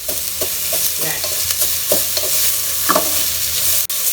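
Onions for a tomato bath fry loudly in a pan, a steady close sizzle broken by repeated scraping strokes of a spatula as they are stirred, with no voices.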